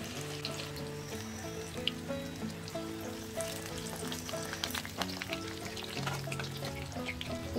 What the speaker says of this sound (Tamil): நல்லா பொரியெல்லாம் நின்னதுக்கப்புறம் நம்ம இதை எடுத்துடலாம்.